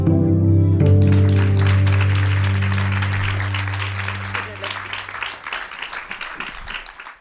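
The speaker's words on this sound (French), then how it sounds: "Bienvenue Claire Touzard, vous pouvez l'applaudir." An audience applauds to welcome guest Claire Touzard at a French talk show taping, steady clapping that fades gradually over a sustained low musical tone.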